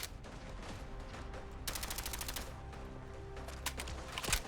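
A Hyde .30 automatic carbine in Fallout 4 fires in rapid automatic bursts, crisp rattling volleys with short gaps, fairly faint within the game's ambient background.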